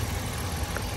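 2016 Ram 1500 with a V8 Hemi engine running, a steady low rumbling idle heard close by for a brief moment.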